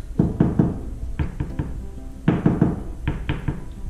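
Knuckles knock on a wall in short bursts of two or three raps to find a stud, hollow over empty cavity and duller over the stud, close and fairly loud.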